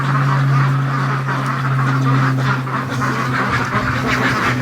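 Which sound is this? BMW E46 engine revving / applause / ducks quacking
ducks quacking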